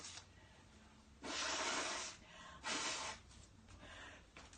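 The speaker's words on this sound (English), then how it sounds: "I'm going to blow my nose again." A person blows their nose in two strong, breathy bursts, close to the mic in a quiet room, with softer sniffling noise in between.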